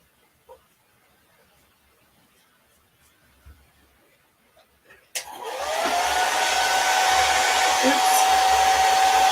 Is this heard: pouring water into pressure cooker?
no